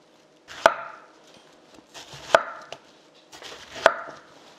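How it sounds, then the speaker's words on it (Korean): Three sharp knife strikes on a cutting board, about a second and a half apart, as pear is cut into thick julienne strips, close and crisp in a quiet room with faint handling between cuts and no talking. "배도 좀 약간 굵게 채를 썰어주세요"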